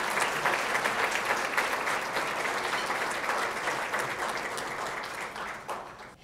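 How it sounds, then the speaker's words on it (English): A large audience at a corporate event gives a big, sustained round of applause, a steady wash of many hands clapping that slowly tapers off near the end, with no talk over it. "Please give him a big round of applause."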